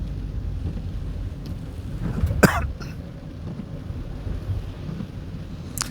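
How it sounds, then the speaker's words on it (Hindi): Heavy rain pours steadily while someone travels through a forest beside a river, a continuous broadband wash with one brief sharp burst near the middle. "काफ़ी बारिश हो रही है"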